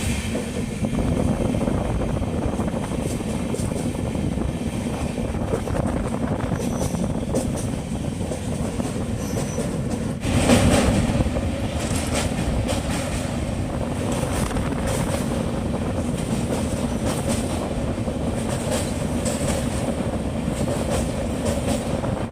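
Inside an economy AC coach of the Sealdah–Ajmer special train running from Kolkata toward Prayagraj, a steady rolling rumble with rhythmic wheel clatter continues, swelling briefly louder midway.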